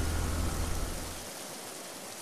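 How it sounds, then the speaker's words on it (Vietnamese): Sudden heavy rain pours down in a steady broadband hiss, loud and close with a deep rumbling low end at first that thins out partway through, with no voices. "Tự nhiên lại mưa to thế chứ."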